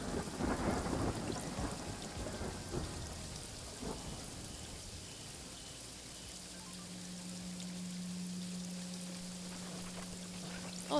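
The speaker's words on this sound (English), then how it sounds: "Oh god, it's raining again." Steady rain with a low rumble of thunder in the Paradise Killer video game, a constant wash of falling drops that fades slightly before a faint hum sets in.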